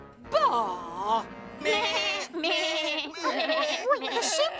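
Sheep bleating in a children's puppet comedy set in a hotel: several wavering, nasal bleats in separate bursts, close and fairly loud, one after another with short gaps.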